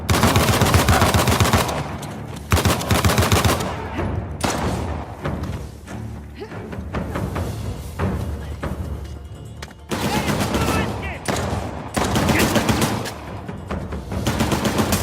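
Gunfire in the video game Uncharted: The Lost Legacy, loud bursts of rapid automatic shots and single cracks that come in repeated volleys with short gaps and thuds between them, and some shouting is mixed in.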